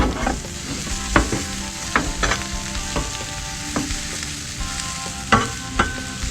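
Brussels sprouts fry on a Blackstone griddle with a steady sizzle, broken by several sharp clanks and scrapes of a spatula stirring them across the flat top.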